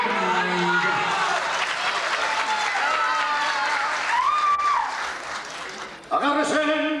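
Sustained applause from a large crowd for a murga carnival troupe at Club Esparta fills the clip, with a voice rising over it near the middle and a brief dip before the clapping swells again.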